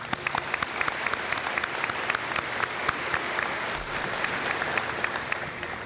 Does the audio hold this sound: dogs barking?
no